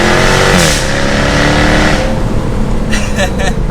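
A 550-horsepower supercharged V8 Jaguar F-Type R AWD revs and accelerates loudly on a mountain road, its pitch climbing and shifting through gears, with a voice talking over it.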